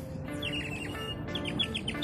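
Small birds chirp and tweet in quick, repeated bursts on a sunny, crowded waterfront promenade, fairly close and clear over a steady background hum of people and ambient noise.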